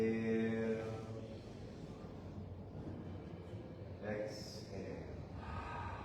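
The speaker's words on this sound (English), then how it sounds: "Breathe in nice and slow and deep." A slow, deep breath drawn in during a guided group breathing practice, a long soft airy inhale lasting a few seconds, preceded by a brief voiced sound and followed by another short breathy sound.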